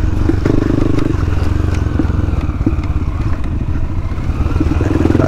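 A motorcycle rides a dirt trail near the ruins of Bom Sucesso and the beach cliffs, its engine running on reserve fuel. It drones loud and close without a break, with rattles and bumps from the rough ground.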